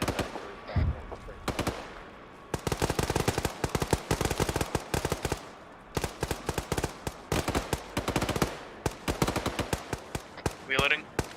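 Video game Arma, a squad in a winter battle laying down suppressing machine gun fire: dense, loud automatic bursts rattle almost nonstop with short pauses, and voices call out between them.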